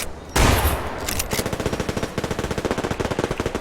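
Winchester rifle gunfire in the video game Survarim: a loud opening blast, then a fast, steady string of about twenty close, sharp shots fired in quick succession, with no talking.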